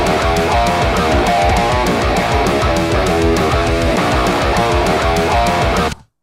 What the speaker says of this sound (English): These are the left and right guitars as they sound now.